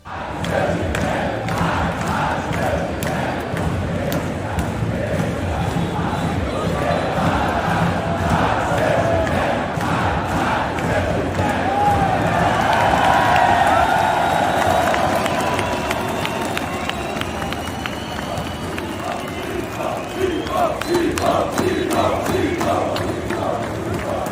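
A large esports arena crowd at a Counter-Strike Major cheering and roaring continuously, loud and sustained, with rhythmic thumps and claps running through the noise.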